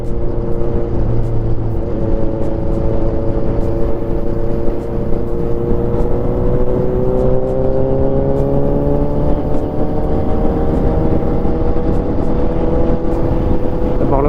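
A Suzuki GSX750 motorcycle being ridden, its engine droning steadily with rising and falling pitch as it changes speed, loud and continuous throughout with wind noise and no talk.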